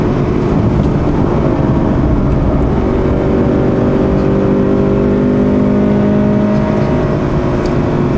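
A modified 2017 Subaru BRZ engine drones steadily and loudly through a corner at legal speed, holding a sustained tone that rises slightly as it pulls through, with road and wind noise throughout.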